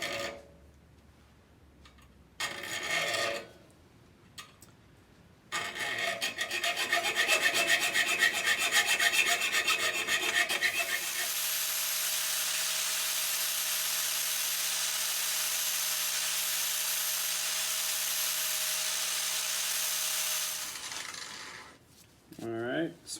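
Rasping and filing work smooths the edges of a small cutout for a ring clip during a 1936 Ford Tudor hot rod rebuild, heard as bursts of scraping, then a long steady abrasive tone before it stops; no speech.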